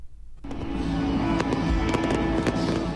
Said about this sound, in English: Oasis finished up their opening night at Murrayfield with a dazzling display of fireworks.